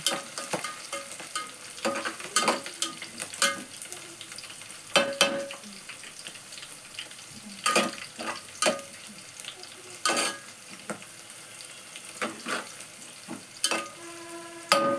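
Green chillies fry in a pan while cooking chicken, a constant sizzle punctuated by irregular scraping stirs of a spoon, close and clear.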